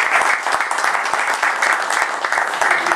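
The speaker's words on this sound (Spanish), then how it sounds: "Fuerte aplauso para tributarle a los periodistas" Brisk applause from a room of people at a press conference for a beach basketball and volleyball tournament, dense and steady clapping heard close throughout.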